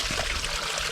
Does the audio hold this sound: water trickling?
yes